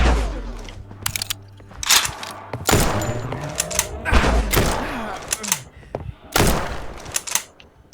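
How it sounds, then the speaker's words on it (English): Gunfire in the horror video game Maid of Sker's challenge mode, loud close shots fired in irregular bursts with sharp reports and booming tails, a few spaced blasts over roughly eight seconds. "I know it looks like I'm shooting at nothing."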